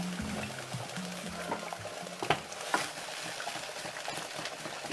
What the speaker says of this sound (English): It's a dry okra powder, so you keep on stirring.